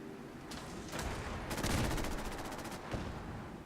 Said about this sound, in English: But an assault rifle, it is not. It is a machine gun.